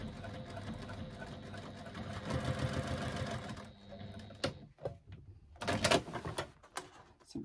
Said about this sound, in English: I'm just going to stitch along the bottom edge here, again using an 1/8 of an inch seam allowance